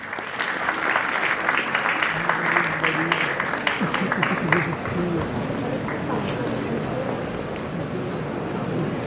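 Audience applause for a speaker at an international startup competition, a sustained crowd of clapping with voices mixed in, tapering off in the second half.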